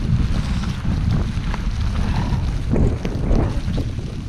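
Heavy wind buffeting the microphone during a blizzard on Brighton Beach, New York, a loud continuous low roar with gusty surges and faint surf underneath.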